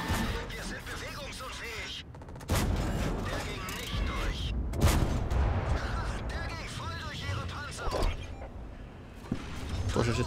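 Gunfire and mechanical clanks in the Frontline mode of an online tank battle game, bursts of shots and impacts over continuous engine rumble, with someone talking throughout.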